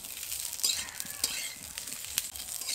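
Raw mango pieces stirred in a pan, soft scraping and light sizzle with a few sharp utensil clicks against the pan, fairly quiet and close.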